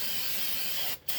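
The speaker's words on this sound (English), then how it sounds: "So what we're going to do is take and spray this down a little bit." Carburetor cleaner sprays from an aerosol can onto greasy brake parts, a loud continuous hiss that cuts off briefly near the end before resuming.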